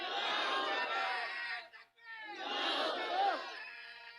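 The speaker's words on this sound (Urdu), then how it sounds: "جس بھائی نے غریب نواز کی محبت میں لگائے نعرے وہ پھر لگائیں ادھر سے" A large gathering at a devotional Islamic event chants religious slogans in unison, two long loud waves of massed voices separated by a brief pause, close and dense.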